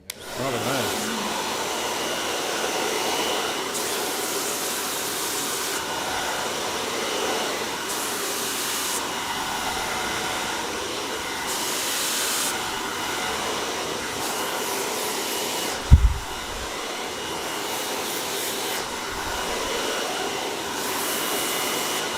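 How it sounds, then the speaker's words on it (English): A hair dryer blows in a steady, continuous whoosh while rough drying hair with a brush. The airflow swells and eases as it is moved around, with one brief knock partway through and no talking. "I'm effectively rough drying the hair on this one, even though I'm using a brush."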